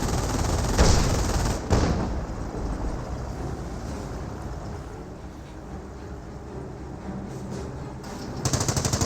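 Machine-gun fire and scattered gunshots in Company of Heroes, a World War II strategy game, with sharp bursts near the start and end over a dense, rumbling battle backdrop; moderately loud, with no talk.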